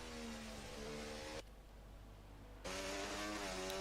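A McLaren race car in a racing game at the Brazil circuit, its engine a loud high whine that drops out briefly and returns, a close passing roar with no talk.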